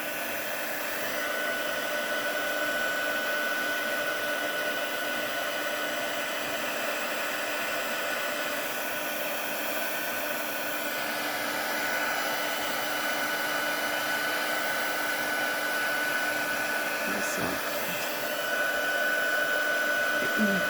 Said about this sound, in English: Now if you let your heat tool heat up a little bit, it'll go a little bit faster.